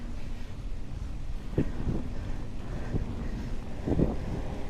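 Steady wind buffets the microphone during a road cycling ride on a 70 km Shimano Road Fondo course, a constant broadband rush with a few louder gusts and thumps.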